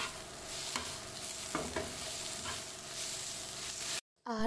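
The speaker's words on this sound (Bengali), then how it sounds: "এদিকে হচ্ছে চিচিঙ্গা ফ্রাইটা বেশি করে পেঁয়াজ আর পোস্ত দিয়ে।" Snake gourd frying with plenty of onion and poppy seeds, a steady close sizzle with a few stirring scrapes, then a brief drop to near silence before another sound at the end.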